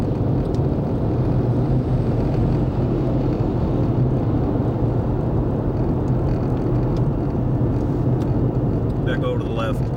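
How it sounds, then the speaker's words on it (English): A truck rumbles past on the highway with a steady, loud low drone of engine and road noise that stays constant throughout, with someone talking over it. "Gonna let another truck come on by."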